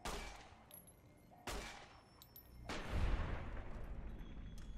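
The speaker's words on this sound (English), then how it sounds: "I'll take you out with Benny's gun." Gunshots from Benny's gun, a pistol in Fallout: New Vegas: three sharp, loud reports spaced apart, each trailing off in a short echoing decay.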